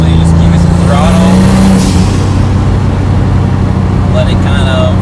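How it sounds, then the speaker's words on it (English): A turbocharged Hyundai Genesis Coupe 3.8 engine revs steadily under throttle, a loud continuous drone that eases off partway through, with a person talking over it. "Usually you just give it some throttle,"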